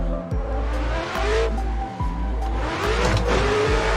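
Drift car engines in a sim racing game rev loudly and steadily with Gravy Garage cars, the pitch climbing and dropping sharply several times as gears change and throttle blips.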